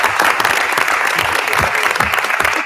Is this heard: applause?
yes